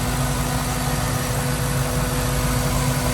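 The original 5.0 V8 engine of a Land Rover Defender 90 50th Anniversary idles with a low, continuous rumble and constant vibration, unchanging throughout.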